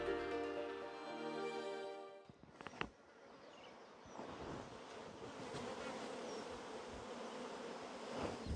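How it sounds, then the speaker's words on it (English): Bees hum steadily in a summer apiary, a continuous close buzzing drone with soft wind in the background, following a few seconds of an unrelated tonal sound that cuts off abruptly. "Welcome to my apiary."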